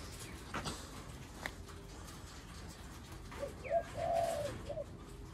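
Spotted doves coo softly from nearby in a short run of rounded, hollow notes near the end, following a few faint scattered sounds in an otherwise quiet setting.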